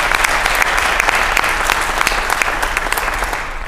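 Audience applause at a staff inservice keynote, a dense steady wash of many hands clapping that fills the whole stretch at full volume before easing slightly at the end.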